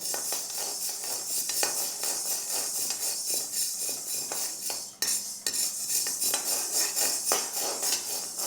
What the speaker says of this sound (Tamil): இது ஒரு மூணு நாலு அஞ்சு நிமிஷம் வறுத்துருக்கோம் நல்ல சூடாக இருக்குது